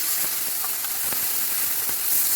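Beef ribeye steaks flipped in a hot pan, a steady loud sizzle and hiss with a few faint clinks of turning, no talking.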